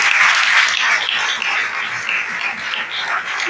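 Audience applause at a motivational talk, a loud, dense burst of clapping from a crowd that holds steady for a few seconds with no speech over it.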